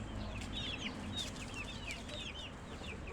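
Chickens clucking and chattering on a small hillside farm in the mountains, several birds overlapping in quick, busy calls close by over a steady outdoor background hum, with no voices.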